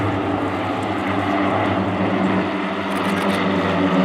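RNoAF Yellow Sparrows propeller aircraft flying at RIAT, a steady droning engine and propeller hum at moderate distance, continuous and even throughout.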